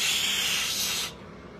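A strong, close spray hiss lasts about a second, then cuts off abruptly, leaving quiet.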